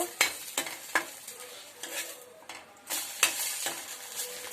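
Bread chop mixture stirred in a frying pan, with a low sizzle under repeated close scraping strokes of a spoon against the pan in an uneven rhythm, and no speech.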